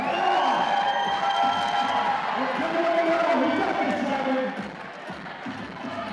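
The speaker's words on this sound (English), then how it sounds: "there's something about an electric crowd behind these competitors that really pushes them up the wall" A lively crowd cheers and murmurs throughout the Yank-N-Yard 2019 climbing finals, a steady roar of voices and whoops that eases slightly near the end, with talking mixed into the noise.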